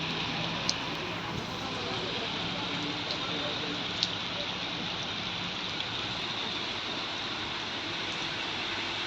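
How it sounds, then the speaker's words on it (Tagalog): Heavy rain pours steadily in a dense, even hiss that stays loud and constant throughout, with faint voices beneath it. "dahil malakas pa rin ang ulan"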